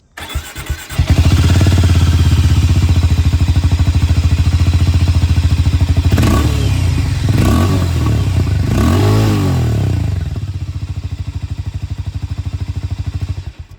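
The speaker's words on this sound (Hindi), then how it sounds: "दोनों ही बाइक के जो एग्जॉस्ट साउंड है वो मैं आप लोगों को सुना देता हूँ" A 2026 Harley-Davidson X440T motorcycle engine starts and settles into a loud, throbbing idle, with a few throttle blips revving it up before it drops back and cuts off.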